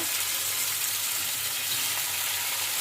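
Fish pieces laid one by one into hot oil in a wok-style pan set up a dense, even sizzle that holds steady throughout, close and unbroken, with nobody speaking.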